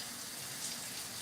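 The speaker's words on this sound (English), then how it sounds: "And now we're also going to add some water into that." Water poured into a cooking pan already holding chicken broth, a steady continuous splashing gush with no gaps, heard close and alone.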